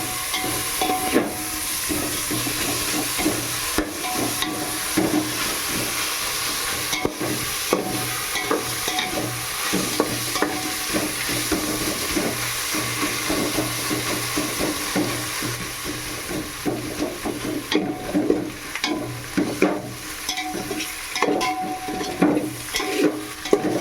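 Onion, ginger and garlic frying in a pot for mutton biryani, a continuous loud sizzle with frequent scraping stirs of a spatula, close up, rhythmic and busy for the whole stretch, no voices.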